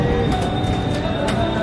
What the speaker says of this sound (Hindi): मुरैना जंक्शन की तरफ ट्रेन हमारी बढ़ती हुई।